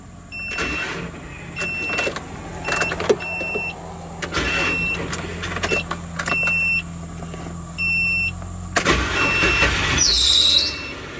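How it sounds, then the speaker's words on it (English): A Nissan Maxima engine cranks and starts, then idles steadily, with a repeating electronic chime and brief mechanical whirs and clunks nearby. A sharp squeal comes near the end, and no one speaks. "So I'm going to start the car"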